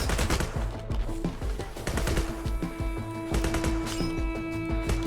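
Heavy video game gunfire rattles nonstop as the player is shot, with dense overlapping bursts and impacts, loud and close, and a steady tone running beneath.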